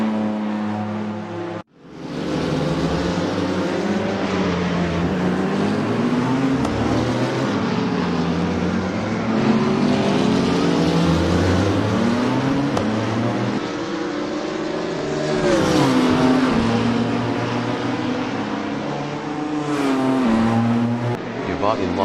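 Lamborghini Huracan GT3 race car engines in a GT3/LMP1 racing game at Spa, a steady loud drone of revving engines with rising and falling pitch as cars accelerate and shift, continuous throughout.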